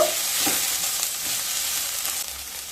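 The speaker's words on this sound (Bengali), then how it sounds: "দিয়ে দেবো পরিমাণ মতো লবণ দিয়ে সয়াবিনগুলোকে হালকা ভেজে নেব" Soybean chunks, seasoned with salt and ground black pepper, fry lightly in hot oil in a pan, giving a continuous close sizzle with faint stirring scrapes and no voices.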